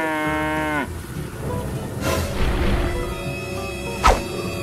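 A cow gives a drawn-out moo with a falling pitch, fairly clear and close, followed by a rumble, a whooshing swell and a sharp hit in an animated animal rescue scene.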